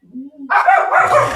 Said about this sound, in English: my basset hound's barking